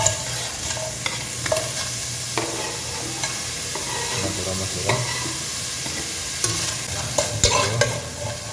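Sliced onions for beef biryani fry in a pan, a steady broadband sizzle with repeated scraping stirs and utensil clicks throughout, close and fairly loud, no voices.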